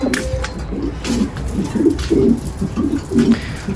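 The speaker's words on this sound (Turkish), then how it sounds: "2-3 tane de güvercin kondu" Several pigeons coo in soft, repeated low throaty phrases, close by, with a faint background hum and no talking.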